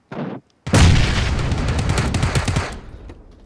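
A grenade detonates in a battle royale video game, a short blip followed by a loud booming blast with crackling debris that rumbles for about two seconds before fading, heard alone without talking.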